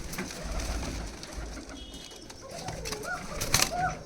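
Arabian Koka pigeons in a loft with freshly hatched chicks give repeated low, soft coos close by, with a brief chirp and faint wing movement near the end over quiet background noise.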